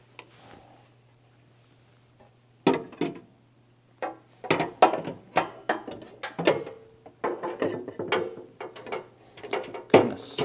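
The shifter cover on a Tilmor 520 tractor is slid back into place, producing close, irregular plastic knocks, scrapes and rattling clicks after a quiet start with a low hum.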